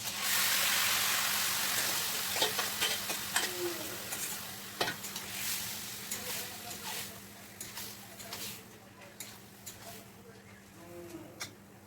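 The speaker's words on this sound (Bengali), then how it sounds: "আলুটা আমি ওই সোমবারের তেলে ভেজে নিচ্ছি, আর আলাদা করে ভাজলাম না।" Potatoes fry in oil reused from an earlier batch, giving a steady, fairly loud sizzle with broadband hiss throughout and occasional spatters and scraping stirs.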